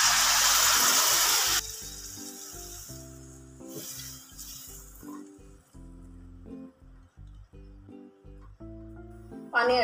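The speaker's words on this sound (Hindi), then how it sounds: "इसमें पानी मिक्स कर इसमें ऐड कर देंगे।" Water is added to leftover masala in a cooking pan, giving a loud sizzle at first that settles into quieter clinks and stirring scrapes, with a steady tonal hum underneath.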